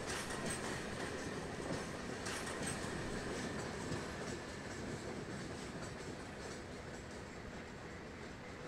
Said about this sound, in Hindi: उधर से वो ट्रेन अराइव कर रही है